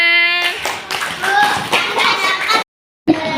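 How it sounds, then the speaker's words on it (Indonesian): A group of children clap their hands together in a classroom, a busy burst of overlapping claps mixed with young voices, then a short cut to silence before another clap. "kita tepuk tangan"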